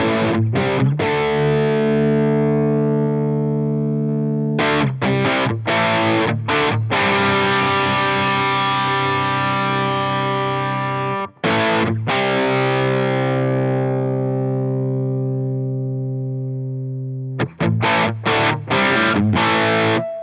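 Line 6 Helix modeling a Friedman BE100 through the Placater Dirty amp: loud, sustained distorted guitar chords ringing out in long held strums, with a few sharp re-attacks and brief gaps, no voices.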